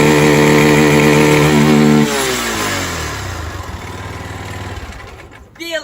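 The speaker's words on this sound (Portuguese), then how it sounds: "Ó, do Caio tem que trocar o kit cilindro, tá batendo." Worn motorcycle engine with a knocking fault, in need of a new cylinder kit, revving loud and close, then dropping to a rough, clattering idle for several seconds.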